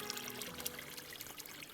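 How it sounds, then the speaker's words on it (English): Spring water pours steadily from a pipe fed straight from the ground, a continuous bright splashing trickle, fairly close and alone, with no voices. "It comes right out of the ground and out of this pipe."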